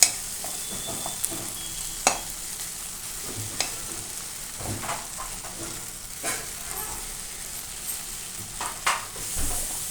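Okra curry being stirred in a hot pan: a steady oily sizzle runs under repeated spoon scrapes and clacks against the pan, close and fairly quiet.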